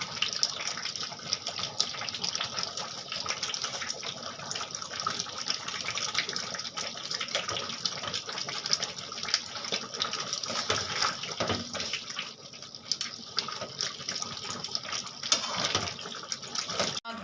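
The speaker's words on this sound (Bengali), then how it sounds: "গরম মশলা দিয়ে আমি দু মিনিট ফুটিয়ে নেব" Chicken curry seasoned with garam masala simmers and bubbles in the pot, making a continuous rough, watery bubbling with a few louder pops, and no one speaks.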